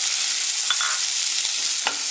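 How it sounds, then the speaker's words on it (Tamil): Onion, garlic, green chili and thinly cut radish sautéing in oil for a Tamil radish chutney make a dense, even sizzle, close and loud, broken by a couple of quick spoon scrapes against the pan. "இந்த வெங்காயம் பூண்டு மிளகாயை போட்டு வதக்கிக்கலாம்"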